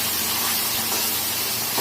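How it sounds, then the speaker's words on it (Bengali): Rohu fish pieces frying in hot oil in a home kitchen give a loud, steady sizzle and spray hiss that holds without pause, close up and with no talking. "এই যে এখন রান্নার আগে ভাজতে হবে মাছ"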